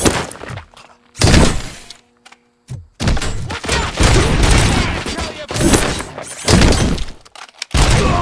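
Heavy bursts of gunfire from RoboCop: Rogue City blast a metal robot enemy, loud and dense with crashing, breaking impacts between short pauses.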